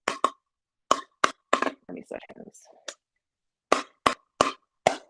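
A hard plastic perforated pickleball is struck with a paddle, giving sharp, hollow pops in quick pairs and single hits, loud and close, with someone briefly talking between rallies.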